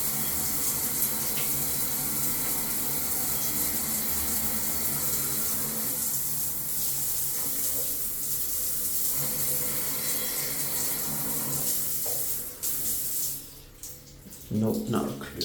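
Water running steadily from a shower in a countryside hotel bathroom in Vietnam, a continuous broad hiss that holds most of the time before thinning and sputtering near the end, with a voice speaking over it.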